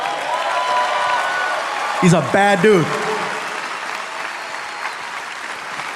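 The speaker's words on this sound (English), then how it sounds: "You guys are clapping" A crowd applauds steadily throughout, with someone speaking briefly over the clapping partway through.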